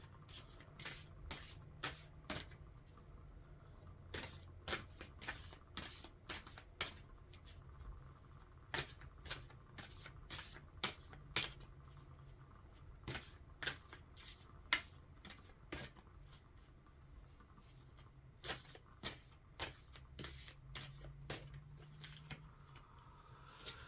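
Someone shuffles a deck of animal and flower oracle cards, making a long run of quiet, crisp card riffles and snaps spaced irregularly over a low room hush, with no talking.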